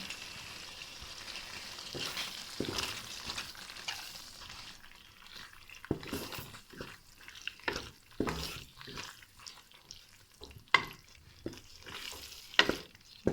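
Peas fry in masala in a pan, a soft sizzle first, then repeated sharp scraping and clattering stirs of the spoon against the pan, close and intermittent.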